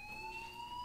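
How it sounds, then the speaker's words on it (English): A steady electronic fire alarm tone rings continuously in the video game Life Is Strange, a sustained high pitched beep with no pauses, alone without speech. "Do you hear that fire alarm?"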